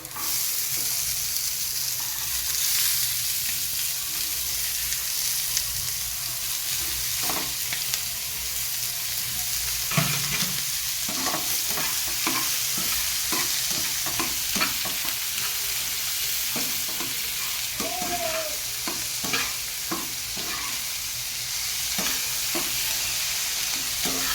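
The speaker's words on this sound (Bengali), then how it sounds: "জিরাটা ফোড়ন দিয়ে দেবো আর এই রসুন কুচিটা আমি দিয়ে দেবো" Cumin, chopped garlic, dried chili and onion fry in a pan for momos, a steady loud sizzle and hiss with occasional spatula stirs and scrapes throughout.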